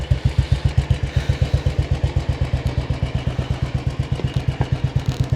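A used 2002 Royal Enfield motorcycle engine runs close by with a steady, rapid thump-thump beat. The even pulses stay loud and unbroken throughout.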